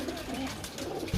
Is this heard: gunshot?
no